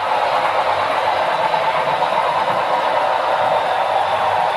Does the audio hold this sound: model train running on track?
yes